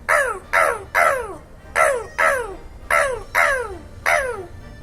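A person imitates the golden parakeet (ararajuba), a native bird of northeastern Brazil, with eight loud, harsh descending squawks in a steady rhythm, delivered close and alone.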